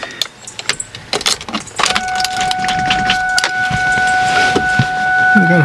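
Car keys jangle in a series of small metallic clinks and rattles at close range in a Mustang, followed by a steady electrical tone, like a chime or ignition hum, as the car is switched on.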